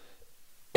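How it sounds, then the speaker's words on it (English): A single abrupt cough from a nearby man bursts loudly out of near silence at the very end. "sorry for the coughs, everybody"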